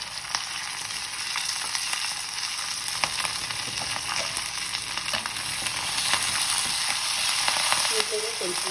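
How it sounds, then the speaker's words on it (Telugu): Onion and curry leaves fry in hot oil for a tempering for a spinach dal, giving a steady, loud, close sizzle and crackle that runs unbroken throughout, with faint stirring scrapes toward the end. "ఇది ఫ్రై అవుతున్నప్పుడు కొంచెం ఆనియన్, కరివేపాకు వేసుకొని మంచిగా ఫ్రై చేసుకోవాలి."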